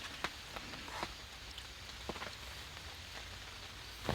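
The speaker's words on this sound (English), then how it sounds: "As you all can hear, it is now raining pretty good." Rain falls steadily at a campsite, a dense hiss with occasional louder drops tapping nearby. It is fairly faint and no one speaks.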